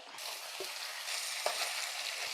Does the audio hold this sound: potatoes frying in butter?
yes